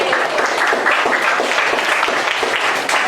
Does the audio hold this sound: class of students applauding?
yes